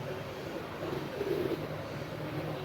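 Low, soft cooing from Punjabi pigeons kept by a fancier, a few throaty coos murmuring over steady background noise, with a voice speaking faintly at moments.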